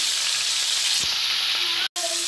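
Chopped onion hits a hot pan of browned meat with a loud, steady, close-up sizzle that crackles evenly, marked by a few faint clicks and a brief dropout near the end.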